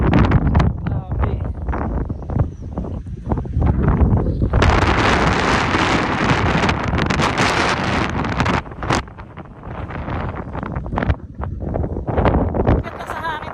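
Strong wind at a panoramic viewpoint in Cebu, Philippines buffets the microphone in loud, continuous gusts, with voices talking over the roar.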